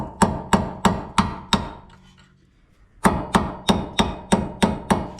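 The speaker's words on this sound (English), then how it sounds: "I opted for this little baby chisel." Hammer blows on a small chisel while removing a rotor: a steady series of sharp metallic strikes, five in quick rhythm, a short pause with faint clinking, then seven more evenly spaced hits, close and loud.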